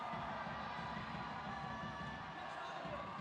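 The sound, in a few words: stadium crowd cheering with drums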